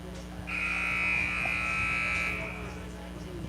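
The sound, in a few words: buzzer sounding at a basketball game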